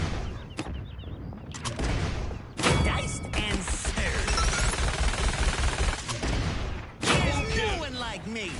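Ruckus fires Rocket Barrage in the Paladins video game, producing dense bursts of rapid rocket blasts and explosions that come in loud stretches broken by short pauses, with game effects layered throughout.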